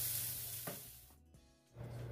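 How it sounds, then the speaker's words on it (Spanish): Onion and garlic frying in a small splash of oil in a pan for a guajillo chile sauce, a soft, quiet sizzle that briefly dips nearly to silence before the hiss returns. "Ponemos la cebolla y el ajo. Y voy a cocinar hasta que la cebolla esté transparente."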